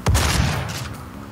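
A single heavy shotgun blast from Doom 2016, a loud, close boom at the start that decays into a rumbling tail.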